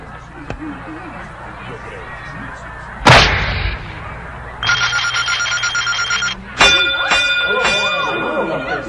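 A punch lands on a strength-testing machine in an anime fight scene: one heavy, sharp impact, then a steady electronic tone and a second burst of bright beeping as the score registers, over faint background noise.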